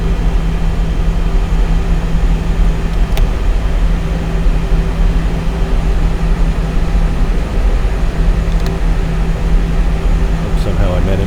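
Inside the cockpit of an Airbus A320 in the X-Plane 11 flight simulator, engine noise holds steady as a loud broadband roar with a low hum, spooling for takeoff. A few faint clicks are heard near the end.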